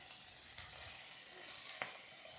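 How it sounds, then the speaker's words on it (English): Beer Italian sausage sizzles steadily in a hot pan, a continuous close crackle with a couple of sharper pops and spits rising above it, no voices. "now you're starting to hear that sizzling"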